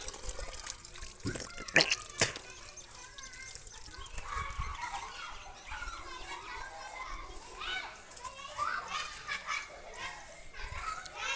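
Children shout and chatter while playing outdoors, lively voices near and far, with a trickle of water and an occasional rooster in the background.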